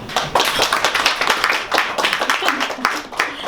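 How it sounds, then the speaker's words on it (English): Audience clapping at a poetry reading at Fergie's Poetry Night, a dense burst of many hands that fills the room steadily for a few seconds with a faint voice under it. "You can hold your applause to the end."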